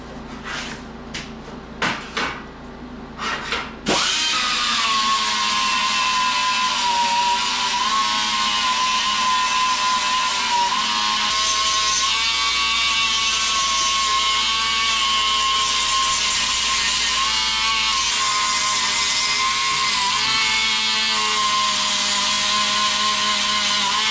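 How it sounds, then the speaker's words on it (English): A power grinder works steadily on an inner sub rail, a loud continuous high whine with a gritty edge that runs unbroken for about twenty seconds after a few short clatters at the start. "I get to grind it."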